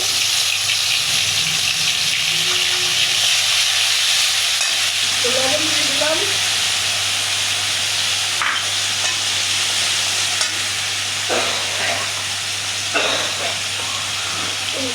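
Small mola fish fry in hot, salted oil, giving a steady close sizzle with occasional stirring scrapes and faint chirps and clicks in the background.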